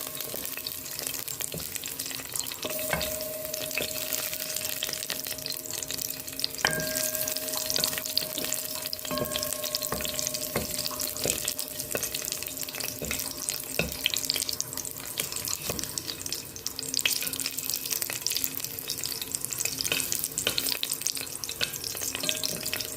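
Pork sizzles and crackles steadily in a small amount of hot oil, a continuous close frying hiss with occasional faint clinks.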